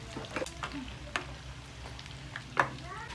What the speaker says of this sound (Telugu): అల్లం వెల్లుల్లిపాయ పేస్ట్ వేసిన తర్వాత ఐదు నిమిషాలు అయితే ఫ్రై అవ్వనివ్వండి దాన్ని